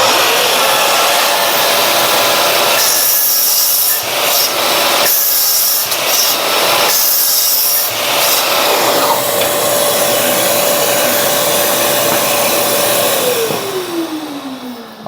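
A loud, steady Festool Kapex KSC 60 cordless miter saw whine grinds through wood alongside a dust vacuum's constant roar, then the motor winds down at the end.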